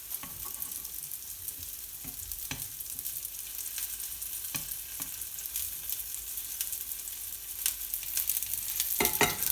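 Tofu fries in a pan over a fire with a steady, close sizzle and occasional sharp taps and scrapes of turning, the hiss swelling slightly toward the end.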